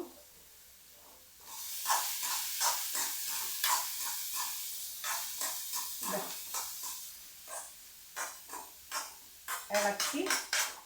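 Food sizzles steadily in a hot pan while a utensil scrapes and clinks against it in quick, irregular bursts as chopped banana stem and cowpeas are stirred close by.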